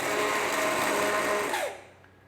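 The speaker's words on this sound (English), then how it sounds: "now taking my trusty stick blender" Stick blender whirring steadily through butternut soup with lime and saffron, a loud continuous motor buzz that winds down and cuts off near the end.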